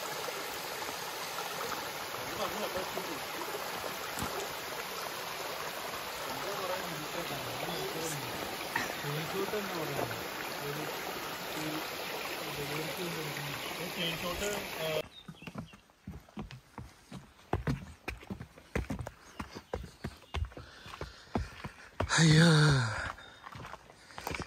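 A stream flows near a waterfall in Weißenohe, Germany, giving a continuous rushing hiss for about fifteen seconds before dropping to quieter, uneven sounds with footsteps and talk.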